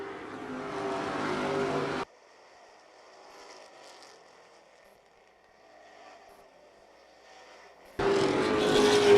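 Race cars at Wiscasset Speedway roar past loudly at the start, drop away to a faint distant drone for several seconds, then surge back in close and loud at the end.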